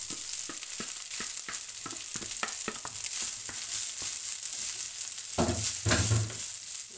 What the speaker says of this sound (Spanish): Hace falta el aceite y vamos a picar el ajito y lo vamos a refreír aquí. Ajo refrito.